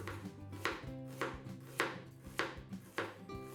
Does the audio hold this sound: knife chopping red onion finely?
yes